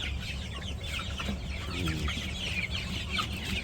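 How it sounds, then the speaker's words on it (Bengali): A flock of village chickens crowding a doorway clucks steadily at close range, overlapping calls over a constant background hiss, with no voices. "এই যে মুরগি দেখেন, এই যে মুরগিগুলো সবগুলো এদিকে এসে ভিড়ে দিচ্ছে।"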